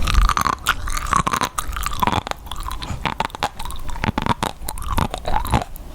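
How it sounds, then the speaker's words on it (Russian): Crunchy seaweed snack being chewed and bitten up close, with steady wet crunching and chomping throughout, loud and continuous with no talking. "Остаток хочу доесть без соусов, потому что сама по себе текстура приятная."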